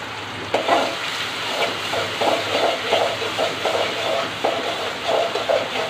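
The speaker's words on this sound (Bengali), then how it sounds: "এটাকে কিছুক্ষণ ভেজে নিব" Ginger paste frying in a pan for a rohu fish and potato curry, a steady close sizzle with soft rhythmic stirring scrapes rising and falling throughout, no talking.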